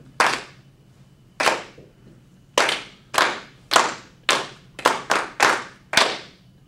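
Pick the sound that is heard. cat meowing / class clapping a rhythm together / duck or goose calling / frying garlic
class clapping a rhythm together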